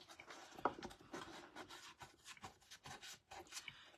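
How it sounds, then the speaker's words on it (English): Soft rubbing strokes as a finish is burnished by hand over the lock of a wooden box, faint, close and irregular, with quiet scraping bursts. "Let me burnish that right over the lock and everything."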